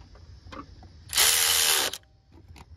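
A short, loud burst of ratcheting clicks from a socket ratchet tightening bolts on a 2007 Cadillac DTS during a water pump replacement, set between faint metallic taps and handling noises.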